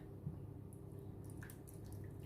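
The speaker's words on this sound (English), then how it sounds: "I'm going to add water, like half." Soft trickling and dripping of water into a cheesecake pan, steady and close, with faint clinks near the end.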